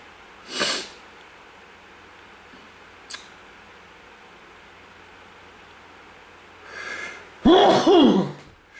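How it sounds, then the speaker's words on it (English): Two sharp, breathy bursts open and close a quiet stretch: a sudden intake and sneeze near the start, then a louder, longer gasp-and-sneeze near the end, close to the microphone with no talking. "I'm sneezing."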